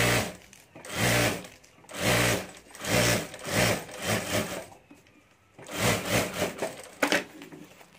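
A sewing machine stitches a folded seam along the zip strip of a handbag in several bursts of rapid mechanical whirring, separated by short pauses.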